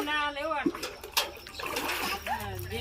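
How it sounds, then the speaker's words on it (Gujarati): Water splashes in a few short, sharp bursts as clothes are washed by hand in a village yard, the splashes partly buried under someone talking close by. "આરતીબેન કપડા ધોઈ રહ્યા છે"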